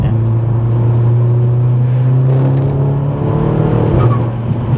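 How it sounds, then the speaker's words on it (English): Exhaust of a Stage 2+ Audi S3 8P hatchback with about 362 bhp, a steady deep droning hum from inside the moving car, loud and continuous throughout. "Really nice sensible. Tone of the exhaust."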